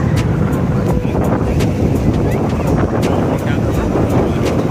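A motor launch crosses a river toward Umananda island in Guwahati, its engine giving a steady low rumble mixed with buffeting wind noise on the microphone and faint voices underneath.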